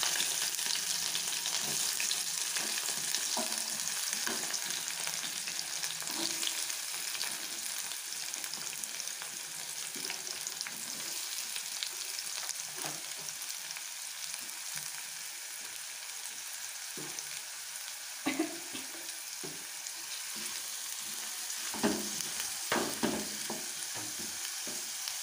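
Onions sizzle steadily in a hot pan for egg bhurji, a dense continuous fry broken by occasional scraping stirs, close and alone with no talk.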